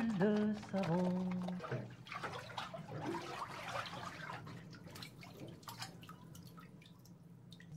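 Bath water splashes and drips close by. A brief voice comes at the start, then gentle, irregular sloshing carries on alone.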